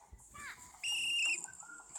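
A video game character in a desert level whistles one short, bright, steady note of about half a second, alone over faint background sounds.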